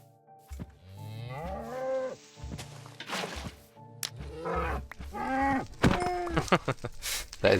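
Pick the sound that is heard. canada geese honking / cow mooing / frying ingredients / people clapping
cow mooing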